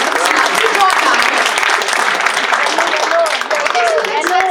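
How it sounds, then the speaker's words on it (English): Audience at a seminar lucky draw in Singapore clapping steadily throughout, a dense crowd applause with voices and shouts mixed in over it. "just first give a big round of applause"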